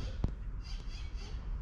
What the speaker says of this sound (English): Here are the birds in the background, the parrots.